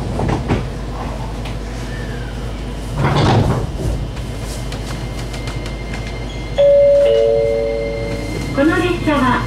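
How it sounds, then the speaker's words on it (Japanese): JR Nippō Line 815-series one-man train doors slide and thump shut amid station noise at Buzen-Nagasu Station, followed by a rising electric motor whine as the train begins to pull away; a voice speaks briefly. "ドアが閉まります。"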